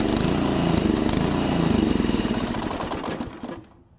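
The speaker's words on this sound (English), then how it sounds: "I'm going to park this snowblower at the end of my garage, start it up, and let it run for about 10 to 15 minutes until it dies" A snowblower engine runs at a steady fast putter to burn off old gas in the carburetor, loud and close, then sputters and fades out as it dies near the end.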